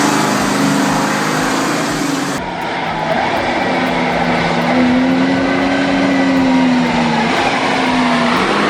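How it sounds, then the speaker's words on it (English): A Pacific P-16 heavy-duty logging truck's diesel engine drones steadily on a narrow, steep forest road, a loud, continuous rumble with a shifting tone that swells again partway through. "Heavy-duty logging trucks are a common sight on narrow and steep forest roads"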